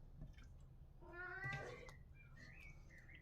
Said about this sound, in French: Les chats réclament.